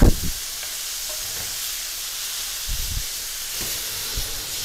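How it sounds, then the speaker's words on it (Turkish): A hamburger patty sizzles on a hot grill, a steady loud hiss with soft thumps and scrapes as it is flipped, and no voices. "Hamburger çeviriyorum abi."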